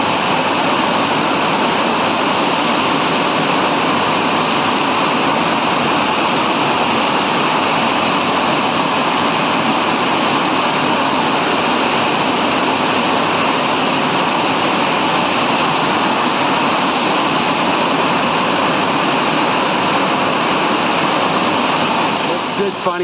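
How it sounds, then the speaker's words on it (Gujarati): Heavy rain pours in a waterlogged town street, making a dense, unbroken roaring wash of water that stays loud and even throughout. "હવે થઈ ગયો છે ફૂલ વરસાદ"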